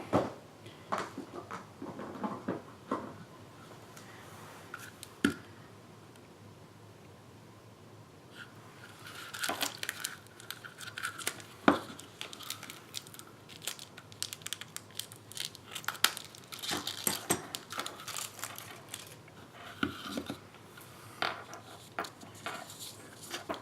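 Cable knit textured paper cut down with scissors for a watercolor Christmas card, heard as scattered close snips, crinkles and paper handling bursts across a quiet room, with no talking.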